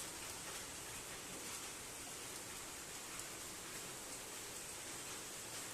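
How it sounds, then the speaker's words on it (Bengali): Steady rain falls under a dark, overcast sky over empty streets, a continuous even hiss at moderate distance with no pauses and no voices. "তেমন বৃষ্টিও হয়ে চলেছে"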